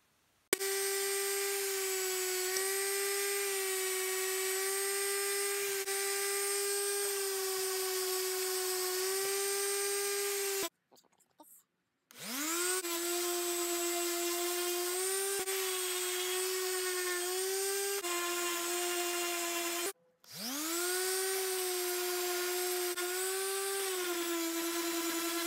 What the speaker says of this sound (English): All I have to do now is sand them down so they're nice and thin